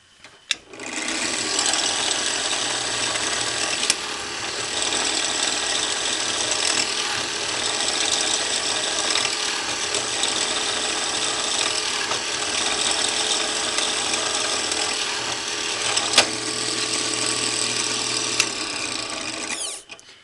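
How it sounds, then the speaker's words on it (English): A drill press drilling holes in leather whirs steadily for a long stretch, a continuous rattling mechanical drone with a few faint clicks, close and loud, no talking. "It's just a 5-speed drill press."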